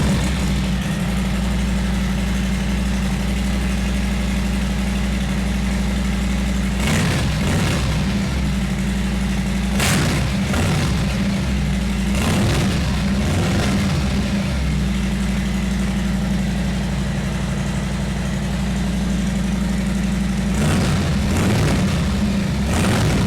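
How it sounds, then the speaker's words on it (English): A Harley-Davidson M8 Softail motorcycle engine with a new Rinehart 2-into-1 exhaust idles with a steady low drone, sharp revving bursts and pops rising over it before settling back to a rumbling idle. "So here goes our first fire up of the new exhaust"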